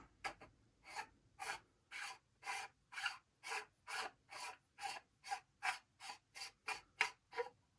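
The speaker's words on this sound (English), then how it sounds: "And then you can just unscrew the top." Top of a Nomad lightsaber hilt being unscrewed, a rhythmic series of about fourteen short, rasping metal-thread scrapes evenly spaced, close and fairly quiet with no talking.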